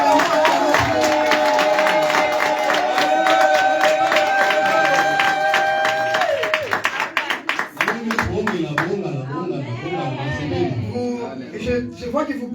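A church congregation cheers and applauds during a worship service, with clapping and shouting swelling over sustained music and continuing as a loud, dense crowd roar.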